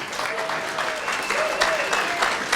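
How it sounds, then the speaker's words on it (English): Audience applause at a high school sports hall of fame banquet, a steady round of clapping with a few murmured voices mixed in. "He deserves some applause."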